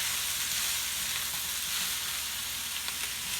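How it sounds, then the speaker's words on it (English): Vegetables fry in a hot pan with soy sauce, a dense steady sizzle running throughout with light scraping from stirring, no voices. "we'll give this a stir"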